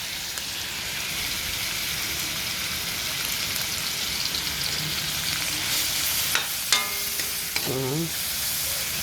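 Ham frying and being stirred in a pan for pasta carbonara, a steady close sizzle throughout with a few clinks of the utensil near the end.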